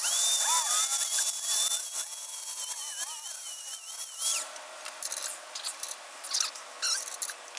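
An angle grinder cuts down the ball joint of a front strut on a 2000s Porsche 987 Cayman, its high whine wavering for several seconds, then giving way to irregular scraping and rasping metal-on-metal noises close by.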